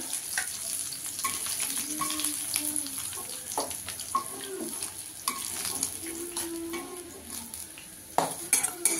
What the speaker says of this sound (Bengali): দেখুন বন্ধুরা, আমি এখানে একটা প্যানে তেল দিয়ে দিয়েছি। মাছগুলোকে আগে ভেজে নেব।